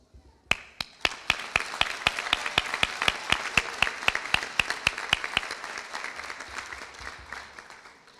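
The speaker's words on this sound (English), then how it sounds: "I would like to have a round of applause to all cohorts." Sharp, evenly spaced claps ring out at a college commencement ceremony, a steady rhythmic clapping for the graduating cohorts that starts abruptly, runs for several seconds, and gradually thins and softens.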